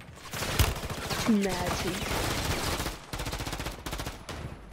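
Rapid automatic gunfire from the video game Call of Duty: Modern Warfare III crackles in loud, sustained bursts while a player talks over it.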